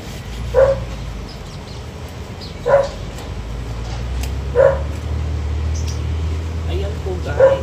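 A dog barks once every couple of seconds, four short, moderately loud barks spaced apart over steady background noise.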